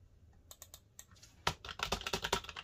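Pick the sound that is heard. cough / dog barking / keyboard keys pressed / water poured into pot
keyboard keys pressed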